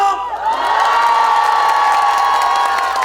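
A large outdoor concert crowd in Goseong, South Korea, lets out a loud, sustained cheer with high shouts and screams, the roar holding steady throughout with little distinct clapping beneath it.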